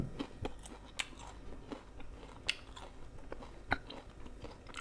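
Crispy fried mackerel head is crunched up close during a mukbang meal, with repeated sharp bites and chewing crackles at an irregular pace.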